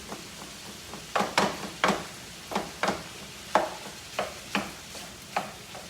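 Ground turkey cooking in a pan, a soft background sizzle punctuated by a steady series of crisp scraping strokes roughly every half second as a spatula breaks up and stirs the meat, up close.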